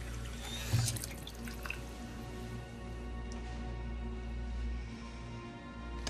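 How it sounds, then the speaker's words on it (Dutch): A kitchen or bathroom water tap runs steadily indoors, a continuous faint stream with a brief splash near the start, no voices. "Waarom laten we de kraan lopen?"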